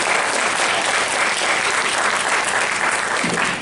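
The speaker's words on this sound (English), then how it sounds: "Huge round of applause." An audience applauds in a steady, dense wash of clapping close around the listener, holding level for a few seconds with a faint murmur underneath.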